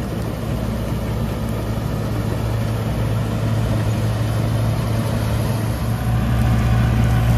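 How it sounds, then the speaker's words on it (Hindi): A tractor-driven straw reaper runs nearby with a steady, loud low drone and a constant mechanical hum that holds unchanged throughout, while the tractor itself stays quiet underneath. "सिर्फ रिपर आवाज कर रहा है।"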